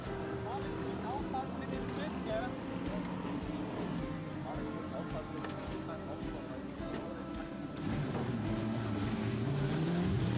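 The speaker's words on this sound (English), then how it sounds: "There's the Callaway Competition Corvette." A Callaway Competition Corvette GT race car drones and revs around the Most circuit during a 2019 ADAC GT Masters race, a steady engine roar heard under continuous commentary.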